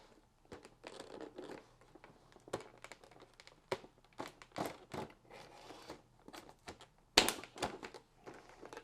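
Knife slicing along the side of a cardboard box holding a McFarlane action figure, producing a run of close scraping, crinkling and tapping bursts with a sharp loud crack near the end, no talking.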